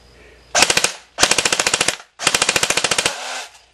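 CODE-8 PTW airsoft gun firing three rapid full-auto bursts of sharp clacking shots, loud and close with brief gaps between bursts.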